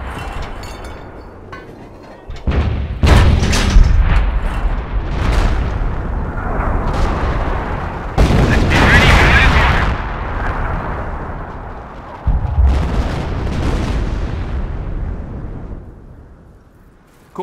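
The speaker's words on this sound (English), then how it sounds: "Fire her up. Concentration barrage. Fire for effect." Heavy artillery shells land in a Company of Heroes concentration barrage, a series of loud, deep booming explosions in several separate waves, each with a rumbling tail and scattered debris crackle.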